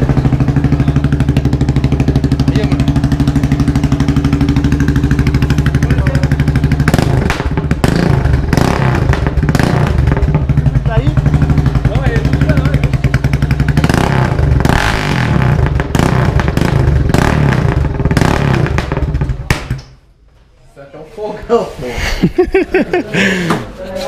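Stripped-down Yamaha XT660 motorcycle engine running loud and close with steady low rumble, some clattering thumps and revving, cutting out briefly near the end before restarting; people talk over it.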